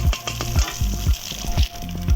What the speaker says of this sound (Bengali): কড়াইতে তেল দিলাম দিয়ে সেই ঢেঙা ডাকার ডিমগুলো কড়াইতে দিয়ে ভালো করে নেড়ে চেড়ে ভাজবো